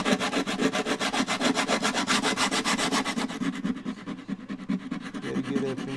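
Sandpaper wrapped on a small plywood block rubs back and forth over a guitar's bridge area in quick, even strokes, close and rhythmic, slowing and turning more uneven toward the end.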